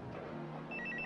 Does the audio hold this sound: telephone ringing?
yes